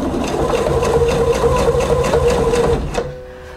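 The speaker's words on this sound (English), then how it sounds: "let's see how that is going to sew on our silk organza" A sewing machine runs a topstitching needle through silk organza with a fast, even mechanical rhythm of stitches, then stops abruptly near the end and leaves a faint hum.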